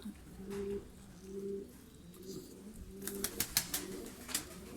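Homing pigeons in a loft give soft, repeated rhythmic coos at close range, joined later by a few sharp clicks and flutters over a low background hum.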